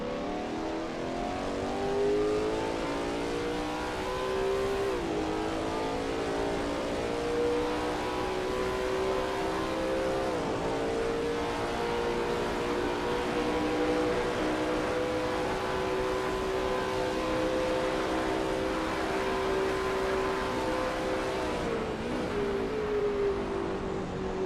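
Lola T70 MkII Spyder race car at Riverside in a racing game, engine held at a steady high-rpm roar with clear harmonic tones that dip briefly at gear shifts, loud and close throughout with no talk.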